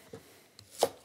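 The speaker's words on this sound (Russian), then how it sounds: "Прежде всего я могу нарезать лук." A knife chops through onion on a cutting board while preparing Chinese-style chow mein, giving one sharp, close crunching cut near the end after a couple of softer taps.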